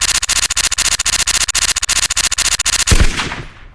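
A video game weapon fires on full auto in a rapid, even stream of loud cracks for about three seconds, then stops and leaves a short fading tail.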